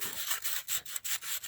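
Sandpaper scrubs a water pump gasket surface by hand in quick back-and-forth strokes, a dry rasping rub repeated about seven times with short pauses between, close and clear.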